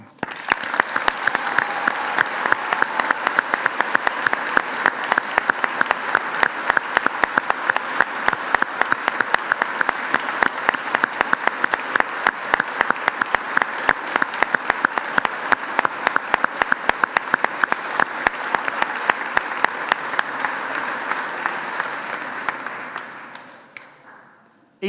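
Sustained applause from a large audience at a university graduation ceremony in Chelmsford, steady dense clapping filling the hall for over twenty seconds before fading out at the end.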